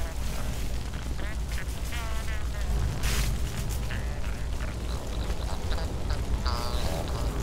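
Playful, quacking electronic chirps from a dancing craftbot in the Scrap Mechanic survival game repeat steadily over a dense, busy game background, with a person talking intermittently.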